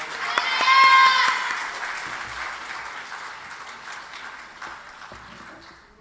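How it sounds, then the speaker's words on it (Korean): A congregation applauds to welcome an elder coming forward to speak at a Sunday evening church service, a steady wash of clapping that swells early, then gradually thins and fades. "박수로 환영하시겠습니다"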